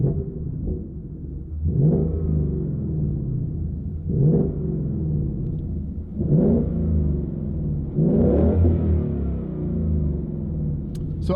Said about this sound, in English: So I'm gonna give it a little rev for you guys to hear.